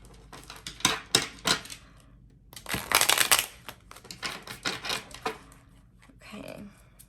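Tarot cards being shuffled by hand during a reading, heard as bursts of close, crisp riffling and clattering that come in several uneven rounds with short pauses between them.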